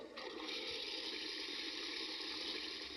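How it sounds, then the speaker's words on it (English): An Otohime toilet device plays a simulated flushing sound, a steady, even rush of running water that holds constant throughout. "a device which generates the sound of a toilet flushing for 25 seconds"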